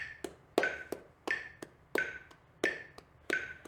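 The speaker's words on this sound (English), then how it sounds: "We're just clapping 8th notes." Hand claps in a steady eighth-note rhythm during a remote music sight-reading lesson, about eleven sharp, close claps in an even pulse with no talking.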